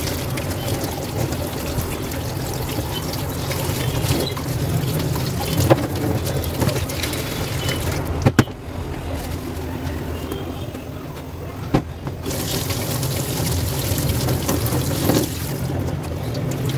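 Water running steadily from a tap while rib meat is washed, a close, continuous splashing rush with occasional clatters and brief dips.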